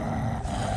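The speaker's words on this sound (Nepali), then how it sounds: "बाघ जस्तै घुर्दो रहेछ।" A large Jumla dog lets out a deep, continuous growl, close and rough, lasting under a second with no voices over it.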